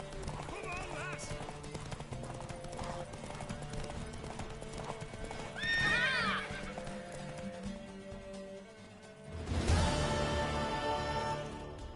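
A horse in The Witcher 3 video game gallops with steady clip-clop hoofbeats and lets out a loud whinny midway and again near the end, under game music and voices.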